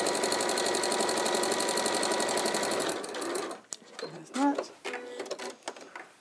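A sewing machine runs fast and steady for about three seconds, then stops as it is turned around a corner of a window panel, followed by a few short bursts and someone speaking.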